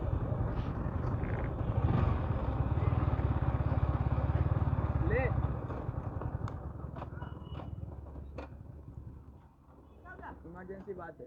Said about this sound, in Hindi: तो गाइस मेरा बाइक मेरा दोस्त चला रहा है